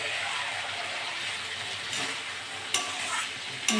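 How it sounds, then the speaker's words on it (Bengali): Chicken with tomato stirred and fried in a pan for a chicken and potato curry, giving a steady close sizzle with scraping stirs and a couple of sharper spoon knocks near the end. "নেড়ে চেড়ে ভালো করে কষে নেব।"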